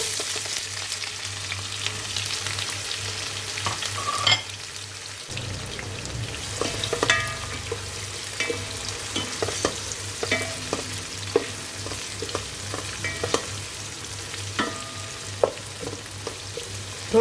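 Onions frying in oil and stirred with a spoon, a continuous close sizzle broken by repeated scraping and clinking of the spoon against the pan, with a louder hiss as stirring begins.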